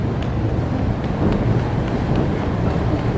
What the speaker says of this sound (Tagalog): Lumalakas na ang hangin.